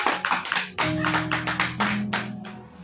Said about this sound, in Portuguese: Aplauda o Senhor aí bem forte.